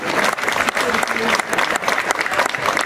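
Audience at a cycling race applauds in memory of Roland Fangil, loud continuous clapping close by with a bit of crowd noise mixed in, steady for about three seconds.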